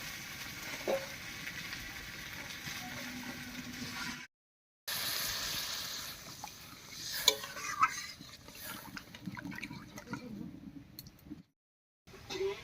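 Water poured into a hot pan of fried moong dal, spices and pointed gourd sets off a sudden surge of hissing sizzle, with stirring and scraping clatter close by and two brief silent breaks.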